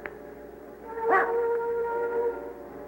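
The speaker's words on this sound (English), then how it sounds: "The dog will bring him right to us." In an old radio drama set in swamp wilderness, a dog lets out a sharp yelp and then a drawn-out wavering howl at moderate distance, with quiet background and no talk.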